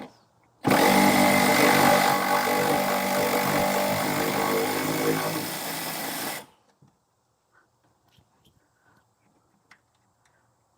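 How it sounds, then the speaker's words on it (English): Electric ratchet with an impact socket spinning a suspension bolt during a rear stabilizer bar bushing and end link job, one continuous loud buzzing whir for about six seconds, then it stops, leaving quiet clicks and handling noise. "Thankfully, the electric ratchet works really well, despite the fact that the sockets that come with it are trash."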